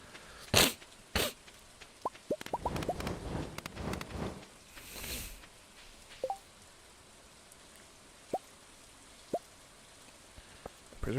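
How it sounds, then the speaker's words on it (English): Rain falls in the farming video game Stardew Valley, heard as scattered soft drip and patter sounds with a few sharper plinks spread across a mostly quiet stretch. "I'm just standing out in the rain at this point."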